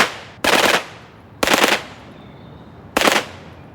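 A Sten submachine gun fires three short automatic bursts at steady intervals, loud and close, each rattling burst lasting under half a second with brief echoing decay between.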